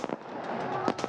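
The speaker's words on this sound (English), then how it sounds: "the booming sound that you're hearing is of the fireworks." Booming fireworks burst at a cricket stadium during a Bangladesh Premier League T20 match, a few short sharp cracks at the start and end over continuous crowd noise.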